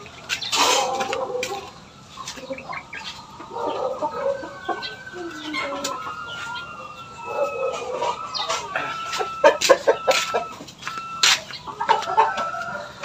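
Young roosters (stags), four months old, Burmese crosses, clucking and calling in a farm setting, with scattered bursts of near and mid-distance chatter overlapping across several seconds.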